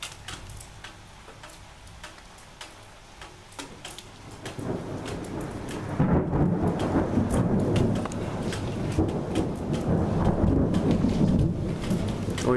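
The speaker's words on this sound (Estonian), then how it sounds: "Oi, kuidas ma armastan äikest." Thunderstorm over Jõgeva with steady rain pattering on surfaces, a deep roll of thunder building and rumbling loudly through the latter half.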